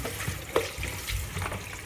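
Soaked almonds are tipped into a container while their water drains off, a soft continuous rushing and trickling wash with a small clink partway through.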